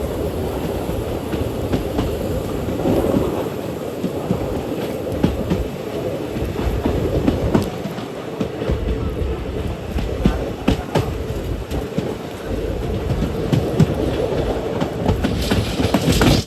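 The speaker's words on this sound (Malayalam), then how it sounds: "ട്രെയിൻ ഇപ്പം നസ്രത്ത് സ്റ്റേഷനിലേക്ക് എത്തുകയാണ്" A train rolls into Nazareth station at night on a single-line route, its wheels clattering rhythmically over rail joints with a loud, steady rumble and faint squeals, continuous throughout with no talk.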